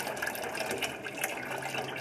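A steady stream of falling water pours onto a ping pong ball, giving a continuous close hiss and splash with no pauses.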